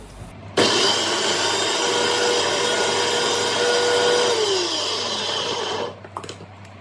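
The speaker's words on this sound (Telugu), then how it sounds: "ఇప్పుడు మిక్సీ పెడదాము" A mixer grinder blends chopped beetroot, a loud, steady whirring roar that starts abruptly, holds for about five seconds with a slight pitch drop near the end, then cuts off, with no talking.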